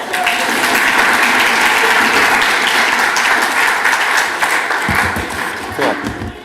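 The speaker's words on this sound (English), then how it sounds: "Let's give Brandon a round of applause" A PyCon conference audience gives a speaker a sustained round of applause, loud, dense clapping that thins out toward the end as voices and handling noises come through.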